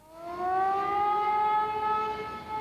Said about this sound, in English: The familiar tone of the air raid siren rang out just as the plane was being loaded.